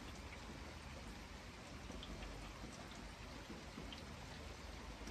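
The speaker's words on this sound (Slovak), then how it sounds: "Agresívne prší." Heavy, steady rain pours down continuously, a dense close hiss of drops hitting surfaces with no pauses and no voices.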